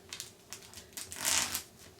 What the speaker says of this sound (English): I put it in a bag, a plastic bag. I twist it,